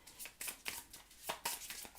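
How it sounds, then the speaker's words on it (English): Tarot cards being shuffled by hand, a series of quiet, crisp riffling bursts in an irregular rhythm, close up with no talking. "you can see me doing the shuffle"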